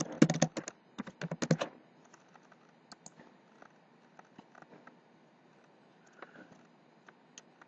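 Typing a username and password on a computer keyboard: a quick burst of rapid keystrokes at first, then scattered softer clicks and taps over a faint low background.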